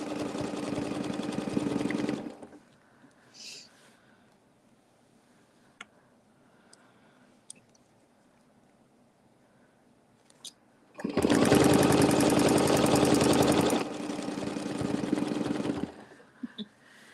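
A sewing machine stitching an angel and circular frame design runs in a loud, steady whirring burst, falls quiet with faint clicks and handling for several seconds, then runs again at length before easing down.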